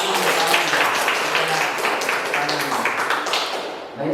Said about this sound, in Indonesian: Baik, gak apa-apa, tepuk tangan dulu.